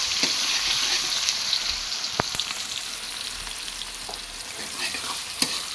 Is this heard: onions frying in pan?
yes